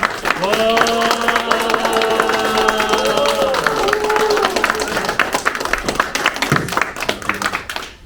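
An audience at a church adult school session in Korea claps to welcome a pastor, sustained dense applause running the whole length, with tonal sounds and voices layered over the first half.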